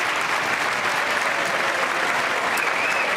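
Sustained applause fills the chamber of Congress during a presidential State of the Union address, a dense, steady roar of many hands clapping at once that holds loud and even throughout without pause.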